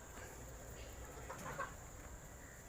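Kadaknath chickens cluck in a coop, faint scattered clucks over a quiet background of low room noise, with no speech.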